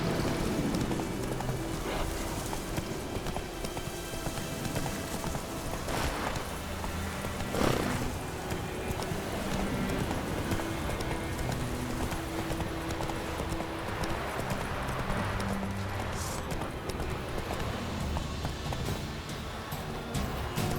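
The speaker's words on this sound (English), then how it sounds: "Run, Roach." The horse Roach gallops in The Witcher 3: Wild Hunt, with a fast, rhythmic run of clip-clop hoofbeats that carries on for the whole stretch under steady ambient game sound.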